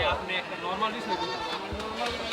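Goats bleating amid the bustle of a weekly cattle and goat market in Niamatpur, Kishoreganj, several wavering cries close by while people talk throughout.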